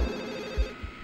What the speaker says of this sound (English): The movie begins with a phone call.